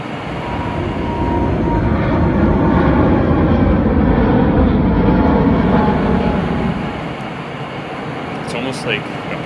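A heavy rumbling roar of an elevated Montreal REM metro train passing close by, swelling and holding steady like an approaching plane, then easing off near the end.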